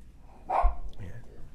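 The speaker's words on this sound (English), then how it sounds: "The dogs are mad now." A single short dog bark sounds close by in a home setting, a brief sharp burst with a lower follow-up, set against a quiet background.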